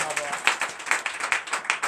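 A church congregation at a French-language Sunday worship service claps in a steady rhythmic pattern of sharp, fairly close hand claps, with voices sounding underneath.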